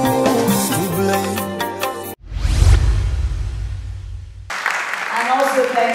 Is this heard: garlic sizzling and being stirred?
no